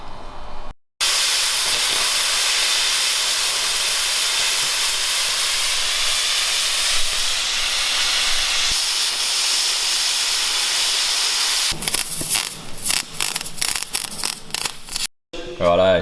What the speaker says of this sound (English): So we'll cut them out with the ox here and weld them onto our diff.